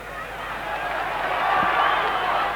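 A football stadium crowd at a 1990 Marlboro Cup match between Colombia and the USSR, a broad, distant roar of cheering and chanting that builds gradually in volume over a few seconds.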